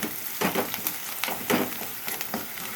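Vegetable pieces and turmeric frying in hot oil in a home kitchen, a steady close sizzle with brief stirring bursts and crackles across the clip, no talking.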